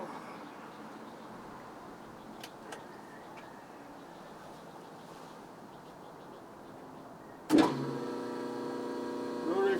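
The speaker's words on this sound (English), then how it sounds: "Rotary phase converter is on." A rotary phase converter for a Bridgeport mill starts with a sudden thump and then runs with a steady, tonal mechanical hum over a quiet room background, with no talk.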